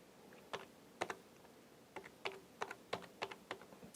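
A date is typed on a computer keyboard, about a dozen close, crisp key clicks in an irregular rhythm over a quiet room hiss, with no talking.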